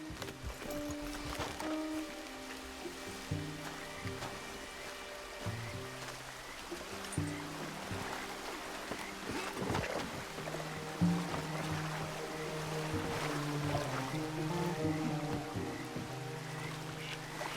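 A canoe glides along a river in Red Dead Redemption 2, with a steady wash of flowing water and soft splashes running throughout, under sustained background music.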